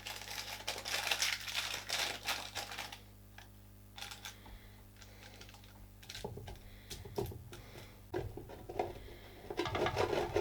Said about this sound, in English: And cut out a small parchment disc to put in the base.